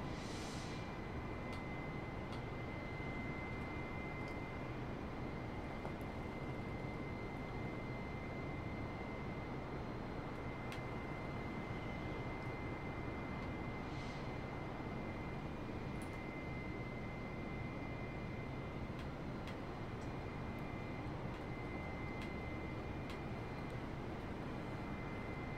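Airbus airliner engines in the Microsoft Flight Simulator game, heard as a steady, continuous broadband roar with a faint high whine running through, unchanging and alone at a moderate level.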